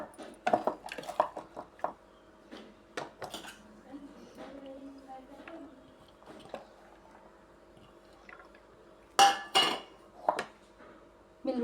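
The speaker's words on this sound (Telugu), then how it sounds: "నిమ్మరసం పిండేసి ఇలా ఉల్లిపాయ ముక్కలు వేసి ఇలా కలుపుతున్నాను." Clinks and scrapes of a utensil against a dish as onion pieces are stirred with lemon juice, coming in short irregular bursts with quiet pauses between and a couple of louder knocks near the end.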